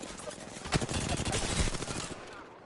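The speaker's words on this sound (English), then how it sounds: "Getting shot from somewhere." Sustained rapid gunfire in the video game Apex Legends, dense overlapping bursts of shots at close range filling the whole stretch with a busy crackling rattle.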